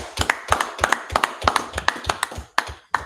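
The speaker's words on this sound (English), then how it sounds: "All right, everybody, clap it up." A few people clap in quick, even bursts at a podcast recording, about fifteen sharp, close hand claps with short gaps, the last couple more spaced out, and no talking over them.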